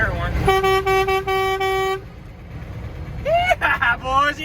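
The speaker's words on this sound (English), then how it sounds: "We got an air horn." An air horn on an old Ford L9000 truck blasts in several loud, close, sustained toots of uneven length, then a pause filled with rumbling engine, followed by shorter, wavering horn bursts, with someone talking and excited voices over it.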